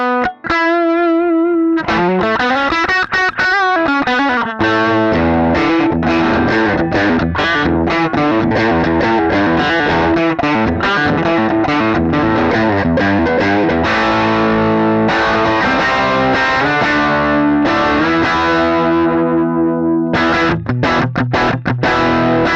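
An electric guitar plays through a ToneX model of a JHS boutique amp with a tube screamer pushing it, giving a steady stream of crunchy, overdriven riffs and chords, loud and close with no voices.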